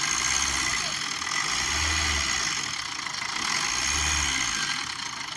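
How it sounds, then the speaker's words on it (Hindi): A car engine, just started after a long crank, idles with an abnormal, rough noise, throbbing in slow low pulses, close and loud. "इसका साउंड सुन सकते हैं आप, साउंड बहुत ही गंदा आ रहा है।"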